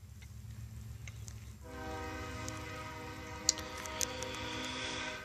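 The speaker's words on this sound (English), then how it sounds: "Pardon me about the train horn" A steady, drawn-out train horn sounds over the low rumble of a passing train, moderately distant, with faint clicks and squeals on top.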